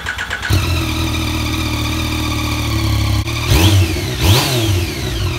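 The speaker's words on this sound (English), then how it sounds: "I'm gonna go ahead and do a startup, let you hear the exhaust run" Yamaha FZ-09 motorcycle with stock exhaust starting up: the engine catches and settles into a loud, close idle, then two sharp throttle blips rev up and fall back.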